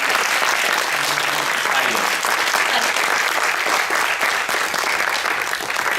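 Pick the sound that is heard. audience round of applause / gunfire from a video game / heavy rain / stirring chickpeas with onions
audience round of applause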